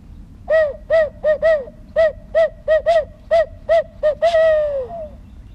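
A person imitates an owl hoot as a turkey-hunting locator call: about a dozen quick, evenly spaced hoots, ending in one longer drawn-out hoot that falls away, close and clear with no other voices.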